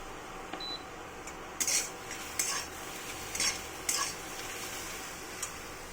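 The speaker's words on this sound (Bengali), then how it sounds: "ভেন্ডিটা একটু শুকনো খোলায় একটু নেড়ে নিচ্ছি যাতে এলে ভাবটা চলে যায়।" Okra tossed in a dry pan gives scattered scraping clicks of a spatula against the metal, five or six sharp bursts spaced a second or so apart over a faint steady background.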